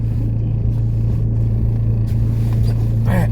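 Cars at an Aussie World car meet, a loud, steady low engine rumble idling and rolling nearby, constant throughout with a slight rise in intensity toward the end.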